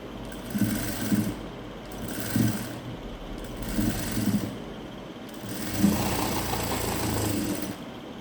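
A sewing machine runs in short bursts, stitching gum piping onto potli buttons, with four brief runs separated by pauses and a longer final run, close and moderately loud with no talk.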